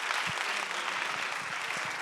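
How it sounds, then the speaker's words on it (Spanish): Audience applause at a live health and nutrition workshop, a short, even burst of clapping from a fairly large room with no voices over it. "Un aplauso, Israel."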